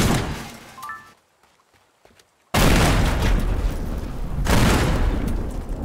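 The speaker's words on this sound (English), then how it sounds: "You can't not shoot propane tanks when you see them." Propane tanks shot and exploding in Teardown: gunfire, then a near-silent pause, then a sudden loud blast followed by a long roaring rumble of burning and debris, with a second surge of noise shortly after.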